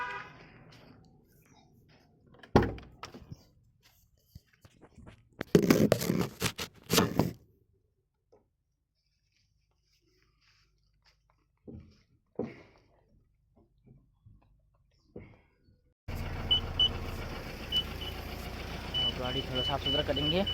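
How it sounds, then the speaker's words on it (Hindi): A car starts up after long quiet stretches broken by short bursts of handling noise and talk. The engine catches abruptly near the end and runs on with a steady close hum. "अब गाड़ी को स्टार्ट कर लेंगे दोस्तों।"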